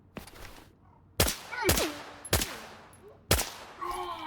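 VIPER-5 gunfire in a video game, four sharp loud shots spaced about a second apart, each with a short ringing tail.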